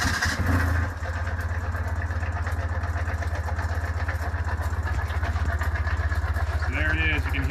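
Motorcycle engine idling close by, a steady low rumble with a throbbing pulse that runs continuously after a brief rise at the start.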